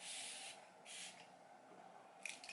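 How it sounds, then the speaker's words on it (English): A few quick spritzes of makeup setting spray misted onto a face, soft airy hisses in short bursts close to the mic, with a couple of faint clicks near the end. "So let's give this a little spritz of the setting spray."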